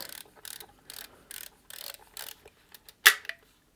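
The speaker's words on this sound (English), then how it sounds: "There's our winder." The film winder of a vintage Super 27 camera ratchets in a series of about seven quick, even clicking bursts, followed by a louder sharp snap and a few faint clicks, close up and alone.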